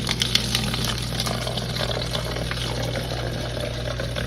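Water poured into the narrow mouth of a plastic water bottle, a steady gurgling and splashing pour that runs continuously at moderate loudness for several seconds, close to the listener.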